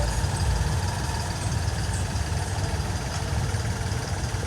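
A tractor engine runs nearby at a Punjabi farm soil-service gathering, a steady low rumbling idle that continues unbroken throughout at moderate level.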